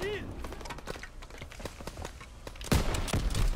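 Gunshots in the World War II shooter Call of Duty WW2, scattered sharp cracks under busy game noise and talk, ending in a louder close burst of shots.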